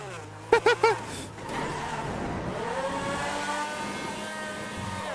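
A sports car engine in GTA Grand RP revs and drones steadily as it pulls away and cruises, loud and close, after a few brief electronic beeps.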